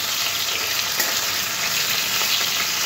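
Prawns fry lightly in hot oil for a Bengali prawn-in-coconut dish, giving a continuous close sizzle with faint crackles and occasional soft stirring clicks, no one speaking.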